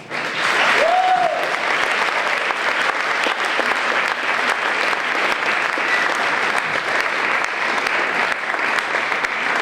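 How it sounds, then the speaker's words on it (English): Steady applause fills the room at a pitch competition event, many hands clapping continuously at an even level, with a brief tonal sound near the start. "she deserves a huge round of applause"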